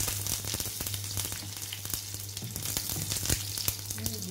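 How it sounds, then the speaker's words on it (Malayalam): Chillies and curry leaves crackle in hot oil after mustard seeds for a brinjal curry, a busy, steady sizzle full of rapid popping spatters over a low hum, with no voices. "കടുക് വിട്ടിയ ശേഷം നമുക്ക് മുളകും കറിവേപ്പിലയും ഇട്ട്"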